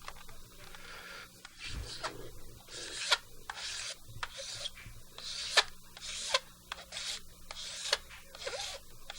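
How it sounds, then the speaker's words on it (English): A metal file rasping in short repeated strokes on a small part of a Craig 8-track tape player mechanism, close and quiet, with rhythmic scraping bursts and faint handling noise between strokes. "all we're doing is we're filing this part down so that when it presses against that pawl"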